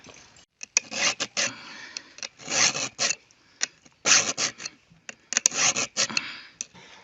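Rasping file strokes on a Grasser GGS 3500 chainsaw chain come in quick, rhythmic bursts separated by short pauses, close up and with no talking.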